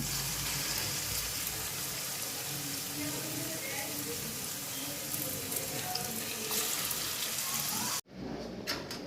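Snake gourd kofta balls fry in a pan with a steady, soft sizzling hiss that runs continuously before cutting off abruptly near the end.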